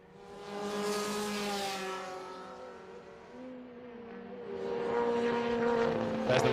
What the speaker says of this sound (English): There's the leader going through, Arjun Balu, onto his last lap.